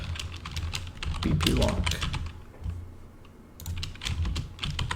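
Typing on a computer keyboard while scripting a horror game: quick bursts of clicky keystrokes, close and clear, with a pause in the middle, and a voice speaking briefly over it.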